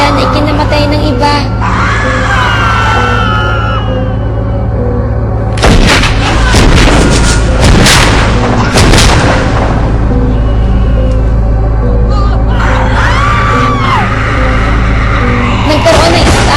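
Loud cinematic gunfire and booming blasts crash through a dark zombie-and-vampire scene in an audio drama, arriving in a dense volley midway over a low droning bed, with shrieking cries before and after.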